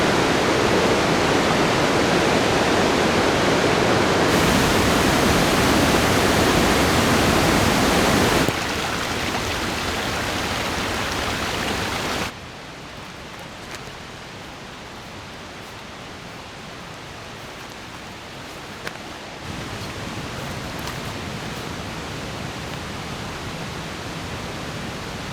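Roaring Pacific Northwest river water in a cold rainy setting, a broad continuous rush that is loud at first, then drops to a softer, more distant steady roar.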